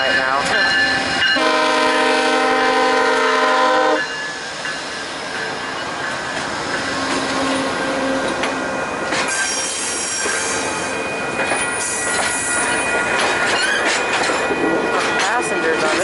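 A VIA Rail passenger train passes at night, loud and close, opening with a long horn blast, then continuous rumbling wheels and rail noise with squealing and clatter as the cars roll by.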